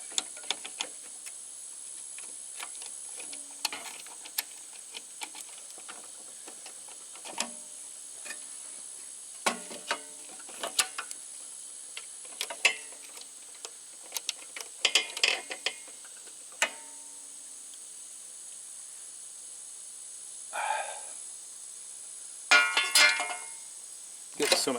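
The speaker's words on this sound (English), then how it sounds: "Using the screwdriver, we loosen the lug." Screwdriver loosening a terminal lug in a single-gang electrical box for a service drop, heard as scattered close, quiet ticks and clicks of metal turning against metal, with brief rustles in between.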